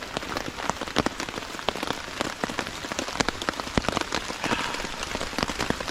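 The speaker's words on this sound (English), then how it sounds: "Still raining. Hasn't let up yet." Steady rain patters on a taut tent surface at a campsite, with dense irregular drops tapping close by, no voices.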